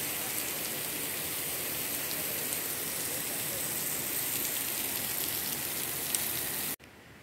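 Steady rain falls at the Ganpati Gadad caves, a continuous dense hiss of drops on surfaces, fairly close and uniform throughout before cutting off abruptly near the end.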